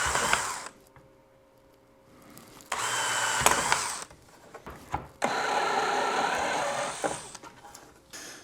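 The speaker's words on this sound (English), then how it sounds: "I can just use the little drill bit for that" A small drill bit bores breather holes about 4 to 5 mm wide into an enclosure for a solar mesh radio repeater, with two sustained whirring bursts and a few sharp clicks between them, close and fairly loud.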